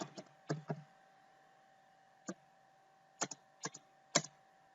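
A computer keyboard is typed on in short, sparse bursts of a few clicks each. The clicks are close but quiet, with pauses between words and no voices.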